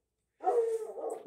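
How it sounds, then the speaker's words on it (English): A dog barks once in a sharp, close burst that trails into a whiny, yelping tone, standing alone against otherwise silent surroundings. "that dog is going crazy"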